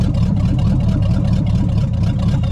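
A 1969 Pontiac Bonneville station wagon with a 428 engine, a barn find parked for 45 years, runs held at raised revs, giving a loud, steady, close engine roar with no speech over it.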